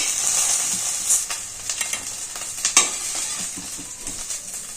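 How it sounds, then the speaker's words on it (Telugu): Green chillies fry and sizzle in a pan for a cabbage and coconut curry, a bright continuous crackle broken by light stirring scrapes, close up with no talking. "తిప్పుకోండి, పచ్చిమిర్చి వేయించుకోండి"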